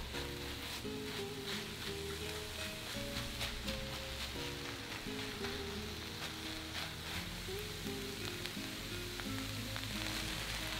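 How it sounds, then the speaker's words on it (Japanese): Okara stir-fried with plenty of vegetables in a pan crackles with a soft, continuous sizzle, fairly quiet and steady, beneath a layer of tonal background music. "水分の飛ばし具合はお好みですが、炒めている音が小さくなったら仕上がりの目安です"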